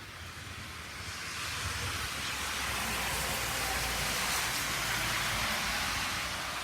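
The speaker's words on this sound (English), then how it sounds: "this is some crazy winds right here." Strong gusting wind ahead of a thunderstorm, a broad roaring hiss that swells after the first second and holds loud and steady, with no voices heard.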